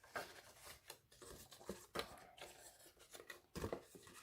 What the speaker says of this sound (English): you're going to cut just a little pizza slice, I call it, little triangle here.